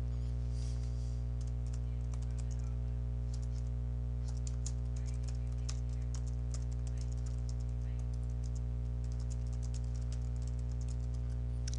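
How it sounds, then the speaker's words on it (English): Steady typing on a computer keyboard, a dense run of close, crisp key clicks over a constant low electrical hum, with no talking. "you type the text that you want into the bounding box."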